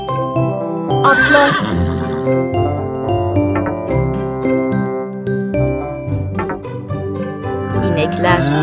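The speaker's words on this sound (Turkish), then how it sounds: "Atlar." Cartoon horses neighing loudly in repeated whinnies over a bright musical backing, with light clip-clopping hooves and tinkling accents mixed in.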